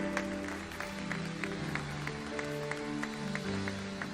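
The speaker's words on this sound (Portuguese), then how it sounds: "Pode aplaudir ao Senhor." Congregation applauding during a church service, with sparse rhythmic claps over sustained organ or keyboard chords, moderately faint and even throughout.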